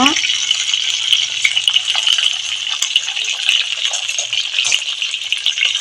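A rohu fish head fries in hot oil, giving a loud, close, continuous crackling sizzle that stays steady throughout with no talk over it.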